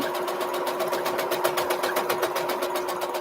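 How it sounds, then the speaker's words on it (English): A sewing machine stitches a simple nine-patch quilt block with a fast, even needle rhythm, loud and close, with no voices. "But it's just sewing the simple 9 patch."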